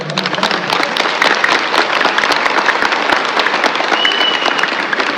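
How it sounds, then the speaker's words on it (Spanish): A crowd claps loudly and continuously, a dense patter of many hands, with a faint whistle partway through. "Aplausos."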